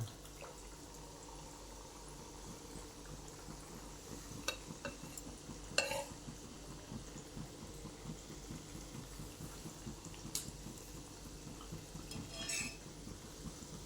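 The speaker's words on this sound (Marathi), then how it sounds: "हे आता शंकरपाळी आपण तेलात सोडून घेऊ" Shankarpali dough pieces fry in oil over a low gas flame, giving a faint, steady sizzle with a few sharp clinks of a utensil against the pan.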